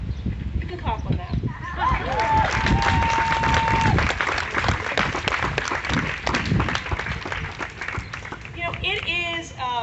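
An audience at an outdoor groundbreaking ceremony in Hyde Park claps and cheers in a dense, fairly loud burst that fades toward the end, with voices and a brief tonal sound mixed in.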